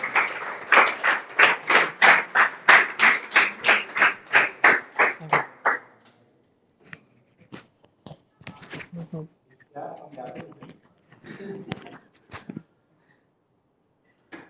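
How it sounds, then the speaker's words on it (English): An audience claps in unison with a steady, evenly spaced beat for about six seconds, then the clapping stops and a speaker's voice takes over with sparse room sounds. "Please give a big round of applause to Mr."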